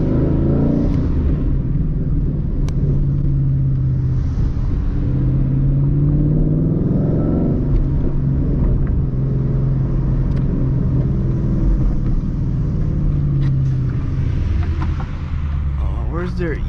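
A Ford Mustang GT with a six-speed manual gearbox and short-throw shifter rumbles steadily from inside the cabin, a deep continuous engine drone under a voice.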